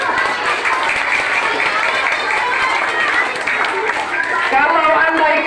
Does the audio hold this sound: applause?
yes